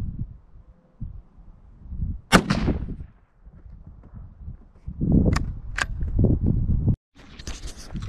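Shots from an FN 509 Tactical pistol hit a board outdoors, a sharp crack early followed by a cluster of loud bangs and impacts a few seconds later, with rustling and handling noise between.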